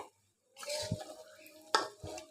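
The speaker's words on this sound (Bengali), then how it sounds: "এখন বাগার সমেত মিষ্টি কুমড়াটা একটু নেড়ে চেড়ে" Pumpkin with its tempering is stirred in a frying pan for a Malabar spinach dish. After a brief silence comes close scraping and sizzling, with a couple of sharp spatula knocks on the pan.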